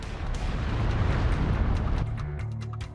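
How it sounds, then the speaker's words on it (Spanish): A volcanic eruption roars out as a big explosive blast, a sustained deep rumbling boom that fills the whole stretch, loud and heavy, thinning toward the end with scattered sharp crackles. "hasta que ¡boom!, se produce una gran explosión"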